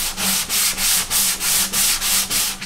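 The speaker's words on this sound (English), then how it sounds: "And you can come in here and do this using different grit sandpapers." Sandpaper mounted on spring steel is rubbed along acoustic guitar sides to level them, making about ten rhythmic, evenly spaced scratchy strokes, close and loud, with no voices.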